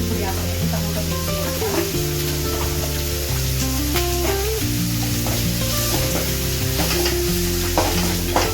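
Tomatoes with turmeric powder fry in a pan, giving a continuous crackling sizzle with occasional scraping stirs, heard beneath prominent steady music.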